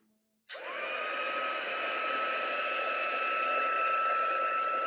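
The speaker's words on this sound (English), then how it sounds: "once the heating tool heats up the embossing powder" A handheld embossing heat tool blowing hot air onto embossing powder on a stamped card snaps on after a moment of silence and runs as a steady, loud whooshing hum with a faint whine, continuous to the end.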